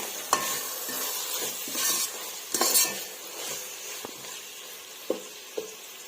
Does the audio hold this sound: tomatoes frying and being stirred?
yes